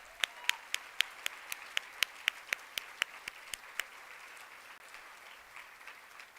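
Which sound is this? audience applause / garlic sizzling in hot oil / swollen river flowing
audience applause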